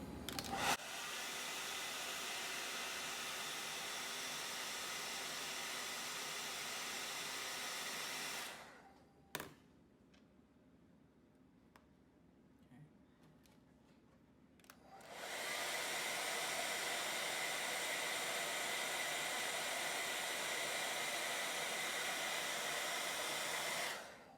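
A hair dryer on its hot setting blows steadily on a Marvel Universe action figure, a loud, close, constant whoosh that cuts to a faint low hum for about six seconds and then comes back on at full strength.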